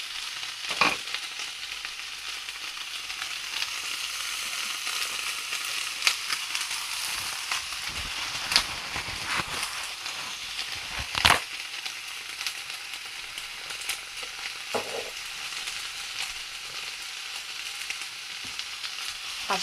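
Onions soften in a frying pan for a lentil and tofu dish, giving a steady, close sizzle with a few sharp clicks and stirring clatters, and no talking.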